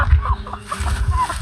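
A batch of quiet chickens in a pen clucks in short, close, low-pitched murmurs, several soft clucks running together over about a second and a half.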